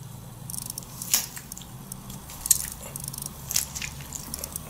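A citrus spray nozzle fitted onto a lemon spritzes juice over shrimp in three short, quiet hissing bursts spaced about a second apart, over a faint low room hum.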